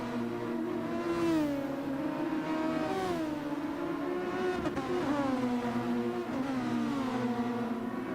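Several Super Formula race cars in a racing video game rev and whine steadily, their engine notes rising and falling as they chase one another in a continuous loud drone.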